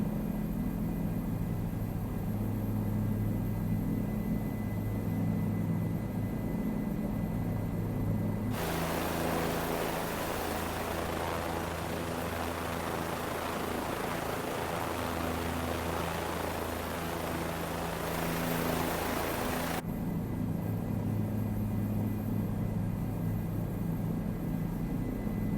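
A Bell 407 helicopter in Nassau County Sheriff's Department livery flies over Long Island in Microsoft Flight Simulator, giving a steady rotor drone with low rumbling tones that swells brighter and louder through the middle stretch.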